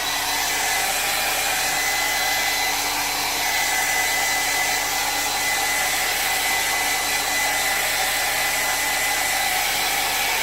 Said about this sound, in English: hair dryer, cold setting.